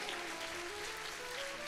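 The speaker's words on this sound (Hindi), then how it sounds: "आपकी तालियां तब तक ना रुके जब तक" A hall audience applauds the organizing committee at a Jain religious discourse event, a steady wash of clapping from many hands running unbroken and fairly faint throughout.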